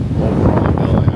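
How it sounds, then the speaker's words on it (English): Strong wind buffets the microphone on a Miami penthouse rooftop in steady, roaring gusts, loud and close, with no other sound standing out. "Very windy up here."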